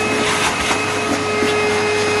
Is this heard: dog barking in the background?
no